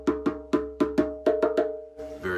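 West African djembe drumming break, a quick run of about eight sharp hand strikes with ringing tone in a syncopated pattern, close and clear, ending in a brief burst of noise.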